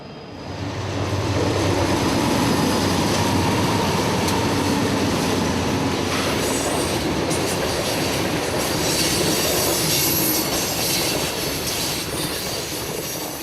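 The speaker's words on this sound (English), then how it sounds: "Yet another southbound coal train zooms past the gazebo." A southbound coal train roars past nearby at the Austell, Georgia rail yard, a long steady rumble of wheels on rails with metallic squeals rising over it, sustained throughout.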